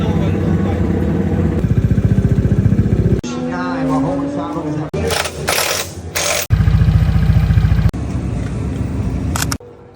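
A tuned Yamaha Aerox scooter engine revs hard during a race warm-up, loud and close, with sustained high-rev blasts broken by short drops and throttle blips over about ten seconds.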